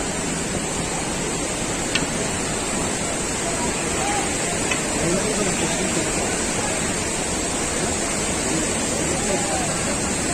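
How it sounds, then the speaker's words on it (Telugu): Fast mountain stream water rushing down from the hills on the Amarnath Yatra route during heavy rain, a dense, loud, unbroken roar throughout with no pauses. "అలలు, కొండల నుంచి వచ్చే వాటర్ అన్నీ కూడా ఎంత స్పీడ్గా వెళ్తున్నాయో మీరు చూడొచ్చు."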